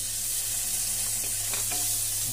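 Mushrooms sauté in a pan with golden-browned garlic and onion, a soft, even sizzle running through the short stretch with a few faint stirring scrapes and no talking.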